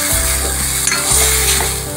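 Fried tomato-onion masala tipped into mushrooms frying in a pan for a spicy bhaji, loud continuous sizzling and crackling with stirring scrapes, close up and without talk.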